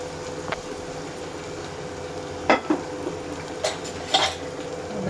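Kathiyawadi kadhi with green onion and salt is stirred in a pot, a soft simmering hiss broken by a few sharp clinks of a spoon against the metal rim, with no talking.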